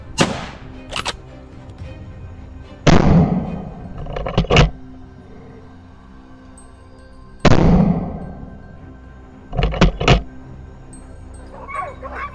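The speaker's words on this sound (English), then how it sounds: "A barrage of shots rings out" Gunshots fired at a wild boar during a forest hunt ring out loud and close in two bursts, each a sharp report followed by rapid clustered shots, with a quiet echoing tail between volleys.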